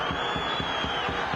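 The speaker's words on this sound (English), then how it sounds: "The crowd disagreed" Stadium crowd at a La Liga football match between Mallorca and Real Madrid roars in disapproval at a referee's decision, a steady loud wash of massed voices with rhythmic low pulses, like chanting or whistling under the din.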